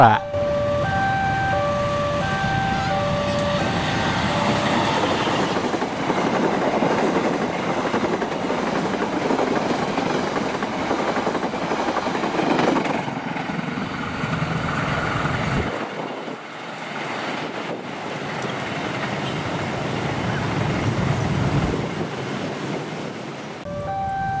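A train rolls past on the railway in Indonesia, a broad sustained rumble and rattle of wagons lasting throughout, with brief tonal horn notes at the start and end and a voice speaking at times.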